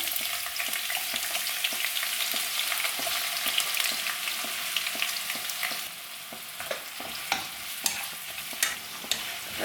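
Thinly sliced large onion fries in vegetable oil in a kadai, a dense, steady sizzle with repeated scraping stirs and clinks that grow more distinct toward the end, no voices.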